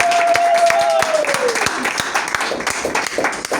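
Clapping from a church congregation during a lively service, with steady hand claps running throughout and a voice calling out over them.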